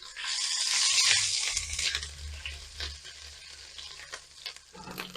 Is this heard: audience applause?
no